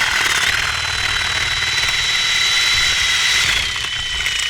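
A power drill whines loud and close as it bores through the underside of a solar panel, holding a steady high-pitched drone that dips slightly near the end.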